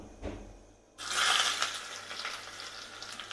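Mustard seeds and small shallots hit hot coconut oil, a faint hiss first, then a sudden loud, bright sizzle with crackling that holds steady close by.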